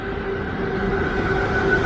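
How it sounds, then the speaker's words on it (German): A train rumbles past close by, a steady broadband roar with sustained tonal wheel and rail hum holding at an even loudness throughout, no voices over it. "Der Zug nervt."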